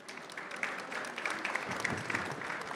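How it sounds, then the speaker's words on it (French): An audience applauds after a talk, a fairly faint, even patter of many hands clapping at a steady level for a few seconds with no speech over it. "merci Olivier Luancy, on peut l'applaudir."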